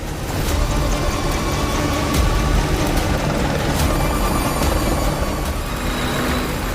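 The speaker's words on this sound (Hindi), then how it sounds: "आसमान में अपाचे हेलीकॉप्टर उड़ान भर रहे हैं।" Apache military helicopters flying overhead during a US–South Korean exercise in Pocheon, a loud continuous rotor and engine roar that stays steady and close throughout, with no voices.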